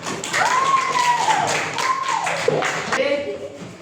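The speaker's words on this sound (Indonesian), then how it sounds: "Kita beri aplaus kepada kelompok 3." An audience applauds group 3 after their classroom discussion presentation, a steady wash of clapping running for several seconds with voices and a tonal call sounding over it.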